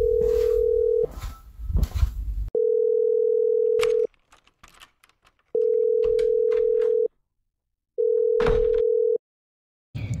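Telephone ringback tone on a call, steady electronic beeps in long repeated bursts separated by pauses, loud and close, with brief rustling noise in the gaps.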